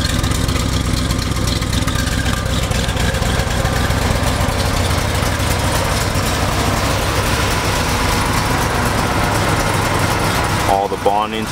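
A 1966 Chevrolet Corvette engine idles steadily and close by, a continuous low rumble throughout, with a brief higher-pitched sound near the very end.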